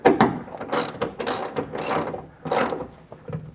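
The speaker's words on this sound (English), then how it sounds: "Come in with your ratchet. And get it all the way." A hand ratchet tightens a bolt on a bike rack fitted to a Tesla Cybertruck, giving several quick bursts of close, rapid clicking with brief pauses between strokes.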